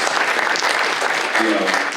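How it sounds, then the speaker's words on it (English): Conference audience at a sports business panel applauds in a dense, loud wash of clapping, with a voice briefly speaking over the clapping near the end. "Round of applause. Round of applause."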